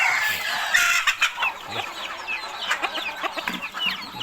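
Farm chickens cluck busily in a dense, continuous chorus, with a rooster crowing near the start and overlapping calls throughout.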